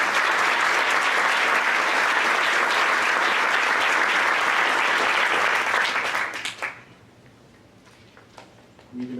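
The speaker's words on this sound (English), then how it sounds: "I think that deserves a round of applause." A crowd at a high school senior night in Cardington claps loudly and steadily for about six seconds, then the applause fades quickly into near silence with a few scattered sounds.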